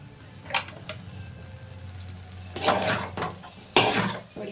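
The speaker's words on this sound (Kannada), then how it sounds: "ಈಗ ಇನ್ನೊಂದು ಚೂರು ಒಂದು ನಿಮಿಷ ತನಕ ಪೂರಿ ಜಾಸ್ತಿ ಇಟ್ಕೊಂಡು ಫ್ರೈ ಮಾಡೋಣ" Roadside-style egg rice being fried and stirred in a pan: a metal utensil scrapes and clanks against the pan in a few sharp strikes over a faint, steady sizzle, with no talking.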